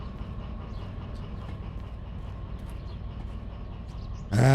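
A locomotive in the train game Derail Valley pulls forward with a steady low rumbling drone that stays even throughout, then a sudden louder mechanical burst in the final half-second.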